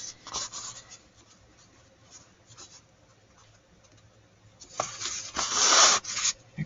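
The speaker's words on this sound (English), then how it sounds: "we're going to fold it in half towards us" A sheet of paper is folded in half and creased, with a brief papery rustle at first, then a louder, sustained rubbing and pressing along the fold near the end.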